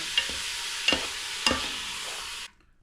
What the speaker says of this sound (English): I'm going to toss in my top sirloin.